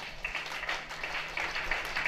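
Faint, distant applause at a school's anniversary ceremony for an award presentation, a soft patter of many hands in a large space lasting a couple of seconds.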